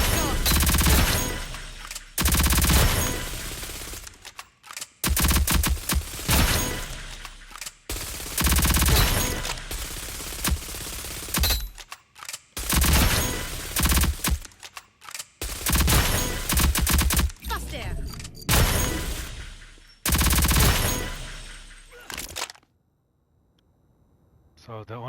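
Bursts of automatic gunfire from the video game Rogue Company, firing in repeated loud volleys separated by short pauses, with a voice talking through much of it before a quiet ending.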